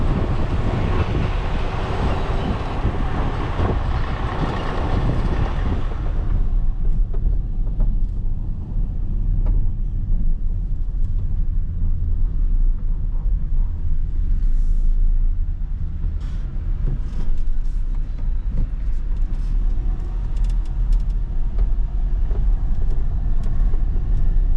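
A lorry carrying road-rail vehicles drives along a road with a loud, steady engine and road rumble, plus heavy wind buffeting that is strongest at the start and then settles into a constant drone.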